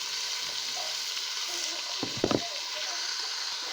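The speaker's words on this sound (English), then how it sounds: "going to fry our onions until they are golden brown" Onions fry in a pan for a simple meatless matoke, a steady close sizzle running throughout with a few brief stirring clatters midway.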